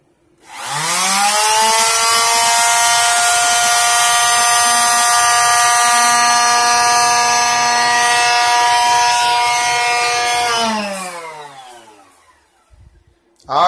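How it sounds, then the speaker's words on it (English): Small electric sander drawing about 5 amps, spinning up with a rising whine and running loud and steady for about ten seconds before winding down, close by with no talk. "This little sander's pulling 5 amps."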